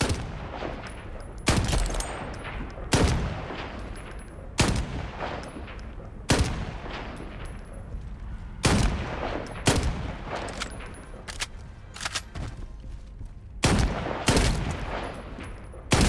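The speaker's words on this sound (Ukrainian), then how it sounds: "Точний постріл в ціль." Sharp video game gunshots in the shooter Shatterline crack out one at a time at irregular intervals, each loud and punchy, with a low steady hum between them.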